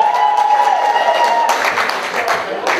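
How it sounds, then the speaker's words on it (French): Guests at a wedding party burst into loud applause and cheering halfway through, a sudden swell of clapping that follows a stretch of a voice talking over a microphone. "faites un tonnerre d'applaudissements"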